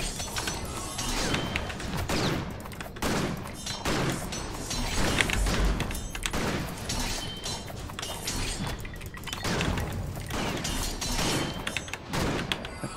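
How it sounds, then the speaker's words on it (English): Fireworks going off in the action game Victor Vran during a multiplayer session, a dense run of repeated crackling bursts and pops layered over continuous battle noise, steady and loud throughout. "The party starts as firing off fireworks."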